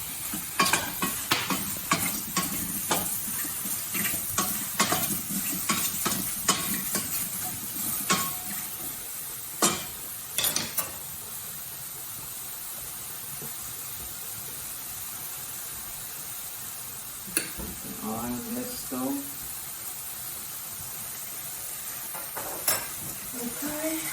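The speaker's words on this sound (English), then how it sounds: "And then just stir it through." A spoon stirs onion salt and regular salt into a pot of miso soup, giving repeated clinks and scrapes against the pot that are busy at first, then thin out into sparser knocks over a low background hiss.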